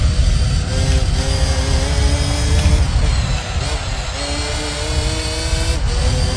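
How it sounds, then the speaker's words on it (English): A Shelby Cobra engine roars loud and continuous in the Gran Turismo 3 racing game, a droning rev that rises and falls slightly as the car runs the track. "I like the sound of this engine, even though I just modified this car."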